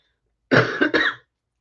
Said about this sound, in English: And sorry if I still cough.